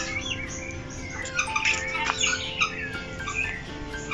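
Several birds chirp and call in a small zoo in Berriozábal, with sharp tweets and short bursts scattered over a steady background hum.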